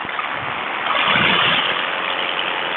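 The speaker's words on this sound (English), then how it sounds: "My motor is starting to do that weird thing again. It's like surging." A paramotor engine running in flight gives a steady buzzing drone that swells in power midway and then settles back, heard alone.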